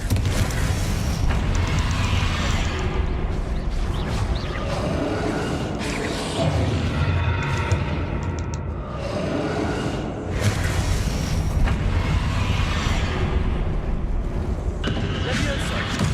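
Repeated Confringo spell blasts in Hogwarts Legacy, booming fiery explosions and whooshes in a dense, continuous battle mix, with a voice speaking over it.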